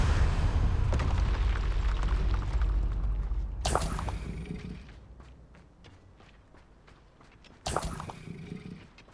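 A Confringo explosion spell goes off in Hogwarts Legacy, with two sharp, loud bursts spaced a few seconds apart over a rumbling low ambience that fades between them.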